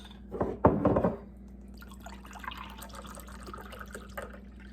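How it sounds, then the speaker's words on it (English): Two cups of cold water pour briefly into a bowl and splash in the first second, then trickle and drip faintly against a steady low hum. "we're going to put 2 cups of cold water right in there"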